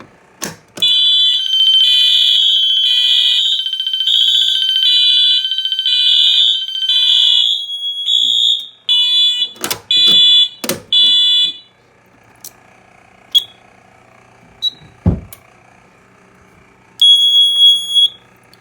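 A building fire alarm sounds after an agent release system discharges: a loud, steady high-pitched tone runs for about eight seconds. Several sharp chirps follow before the alarm fades to a low hum, with brief beeps near the end.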